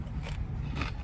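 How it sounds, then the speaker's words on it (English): Loud, close crunching on stale El Pollo Loco tortilla chips, with dense crackling bites and chewing filling the whole moment. "Let me get the crunch going."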